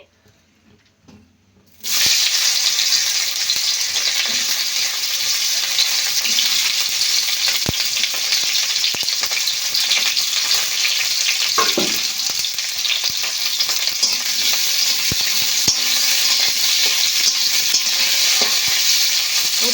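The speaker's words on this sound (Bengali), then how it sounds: "আমি উচ্ছে ভেজে নেব প্রথমে" Bitter gourd frying in oil for Bengali shukto makes a steady, loud, close sizzle that starts abruptly and continues throughout, with occasional crackles and pops.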